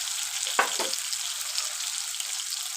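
Ginger garlic paste fries in hot oil with a steady, close hiss, broken briefly by a couple of quick stirring scrapes near the start.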